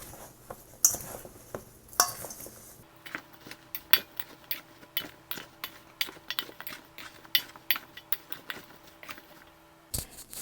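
A spoon stirs cinnamon into apple pie filling in a bowl, giving a quick series of light clinks and scrapes at close range with a steady, uneven rhythm. A few louder knocks come near the start.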